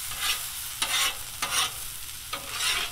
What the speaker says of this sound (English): Give them a little stir.